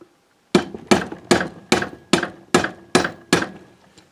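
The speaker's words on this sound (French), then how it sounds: "c'est pas d'y aller au marteau, mais plutôt à la massette en plastique" Eight sharp, evenly spaced taps from a plastic mallet striking a motorcycle part, each a crisp knock that fades quickly, close and loud with no talking.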